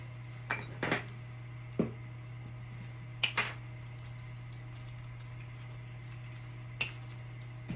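Scissors cutting apart silk ribbon for a craft wreath bow: a handful of quiet, sharp snips spaced irregularly over a steady low hum, with no talk.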